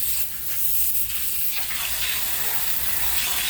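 Water sprays in a steady hissing gush while cleaning a split air conditioner, continuous and fairly close throughout.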